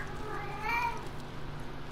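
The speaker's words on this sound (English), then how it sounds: "Shut up, you stupid cat!" A cat gives one short meow, brief and moderately close, over a quiet hum. No one talks.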